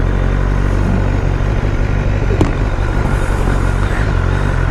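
Motorcycle engine running steadily during a short test ride on a red BMW S1000R or R1200GSA, a continuous close rumble with slight throttle variation and no talking.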